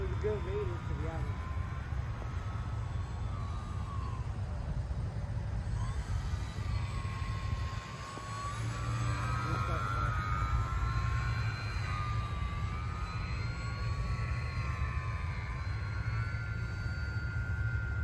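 A model Corsair airplane flies in to land, its steady electric motor whine and propeller drone continuous at moderate distance with wind noise, while people talk throughout.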